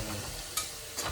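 Pulao in a pan, seasoned with salt, garam masala and turmeric, is stirred in two quick scraping strokes over a soft, steady sizzle, heard up close.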